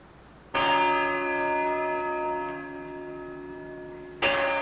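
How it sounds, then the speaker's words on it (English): Church bells in a Venice clock tower chime the hour: two long, ringing bell strikes with rich overtones, the first sustaining and slowly fading for several seconds before the second begins, heard clearly and alone. "The chimes of the clock tower, the bell ringers of Venice sounding the hours, announcing the news"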